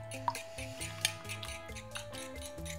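A fork whisks three small eggs in a bowl, producing rapid, rhythmic clinks and taps against the bowl, fairly close and crisp, with a couple of sharper knocks.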